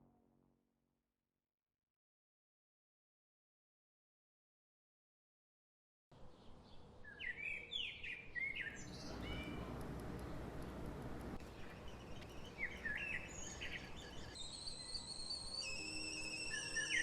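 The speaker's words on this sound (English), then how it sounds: "Birds chirping?" After several seconds of silence, birds chirp and whistle in short bright calls over a dense, steady bed of relaxing morning music.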